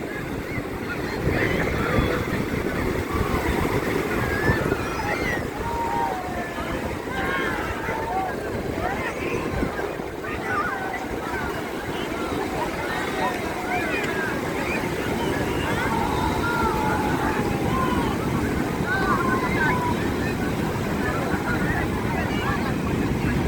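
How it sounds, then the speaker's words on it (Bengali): Large sea waves crash and wash steadily on Puri beach, a continuous roaring surf mixed with gusty wind buffeting the microphone, with no pauses. "দেখেছেন ঢেউ কত বড় বড় পড়ছে?"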